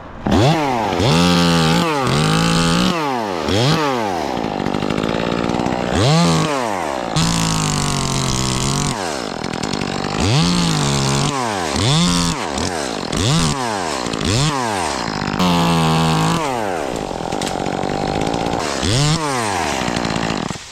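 A chainsaw cuts out a hanging tree limb during tree work on a spider-infested leaning tree, its engine loud and close, revving up and dropping back repeatedly in rhythmic bursts throughout.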